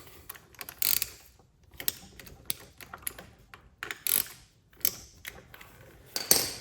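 Bolts are snugged down on a Lifan Xpect front brake caliper, producing quiet, close ratcheting clicks in short irregular bursts with small metallic taps between them. No one talks.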